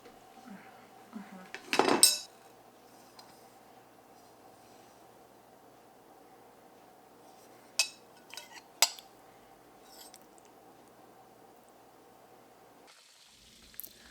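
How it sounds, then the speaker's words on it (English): Serving utensils clink and scrape against dishes as a slow cooker dinner is dished up. A loud clatter comes early, then a few sparse, lighter knocks over a faint steady background hum. "I'll show you what this looks like as we're dishing it up"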